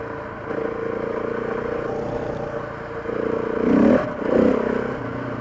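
KTM 690 single-cylinder motorcycle engine revving as the throttle is twisted, a steady running drone swelling into two louder rev bursts toward the end, close and alone without talk.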